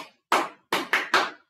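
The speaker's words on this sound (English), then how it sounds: "1, 2, 3, 4, 5, clap." Four crisp hand claps from children counting along, one alone and then three in a quick run, close and clear with silence between them.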